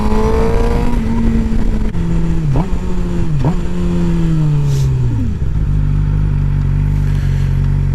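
A motorcycle ridden on the road, engine droning loud and close with wind rush, revving up and down in several quick swells before settling into a steady lower hum.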